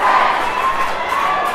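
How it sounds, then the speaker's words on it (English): Spectators at a country football league grand final cheer and shout continuously, a loud sustained crowd roar with scattered higher cries rising above the mass of voices. "Have a listen to the crowd."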